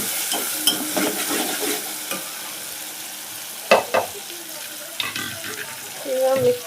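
Egg masala curry with coriander frying in a pan is stirred with scraping strokes and a steady sizzle, with a few sharper knocks and watery bubbling, close and moderately loud.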